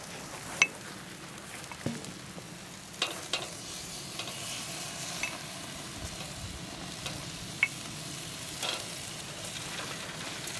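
Bacon sizzles and crackles steadily in a hot pan after hot barbecue sauce is added, with a continuous frying hiss broken by occasional sharp pops and light stirring scrapes, heard close and moderately loud.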